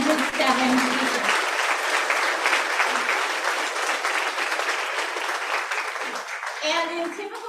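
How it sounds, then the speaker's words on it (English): Sustained applause from a large crowd at an elementary school 5th grade promotion ceremony fills the space, steady clapping throughout with a brief swell near the end. "I would like to give a round of applause to all 107 speakers."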